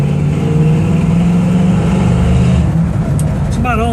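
A 1966 Chevy Nova SS with an automatic transmission and a Holley 4-barrel carburetor drives along, its loud engine rumble steady and close under wind noise, with a brief change in pitch as the gears shift.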